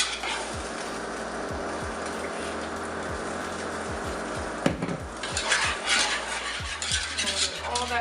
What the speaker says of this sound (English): Use your spatula to scrape up the sides if you need to.